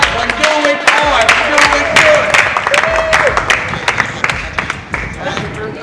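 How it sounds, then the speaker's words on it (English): A tour group at the Temple of Edfu in Egypt claps hard in dense, steady applause that stays loud for several seconds, with some voices mixed in. "Clap your hand if you enjoyed the Temple of Edfu and do it hard,"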